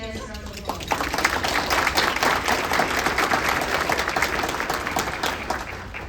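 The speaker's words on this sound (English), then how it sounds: "Let's give all our special guests a round of applause." A round of applause from guests at an economic development appreciation lunch, swelling after a brief lead-in of a voice into continuous, evenly dense clapping from a roomful of people that carries on to the end.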